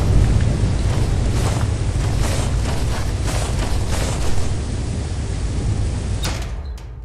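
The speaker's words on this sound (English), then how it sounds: "We're literally in the middle of a thunderstorm." A thunderstorm rages on Rend in the video game Lethal Company, with dense, steady rain and low rolling rumbles that fill the whole stretch at a loud, constant level.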